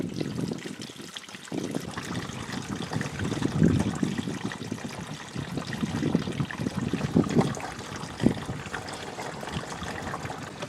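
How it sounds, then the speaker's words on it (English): Water trickles and gurgles steadily into an RV gray tank, close by, with a continuous splashing flow and occasional louder glugs. "Can you hear the water going in?"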